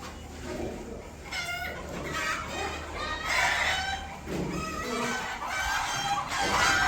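Village chickens cluck and call in a yard, in several overlapping bursts against steady background noise at a moderate distance.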